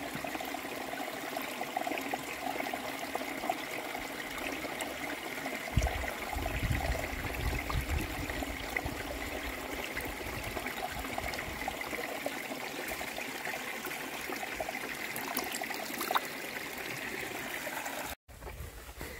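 Water flows steadily in a continuous broadband rush, close and moderately loud, with a brief heavier surge partway through and a short dropout near the end.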